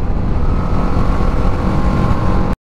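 A motorcycle rides along a mountain road, a loud, close, steady engine drone with wind buffeting, continuous until it cuts off abruptly at the end.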